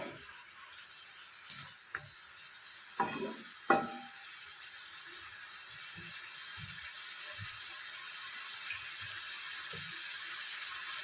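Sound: moong dal poured onto frying rohu fish head

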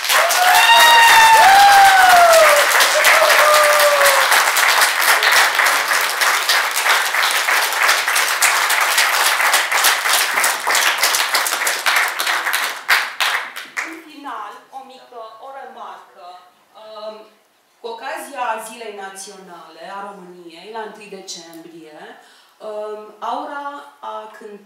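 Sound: audience applauding

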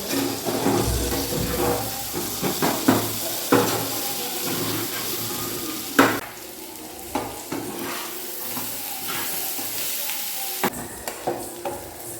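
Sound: chicken frying in a pan

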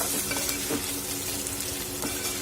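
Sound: okra being stir-fried in a pan

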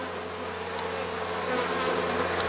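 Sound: honey bees buzzing at an open hive

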